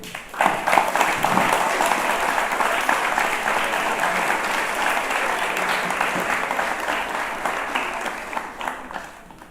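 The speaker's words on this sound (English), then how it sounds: "Another round of applause for Dr. Jane." Students and guests at the International School of Tanganyika give Dr. Jane Goodall a warm, full round of applause, rising quickly and sustained for several seconds before easing off.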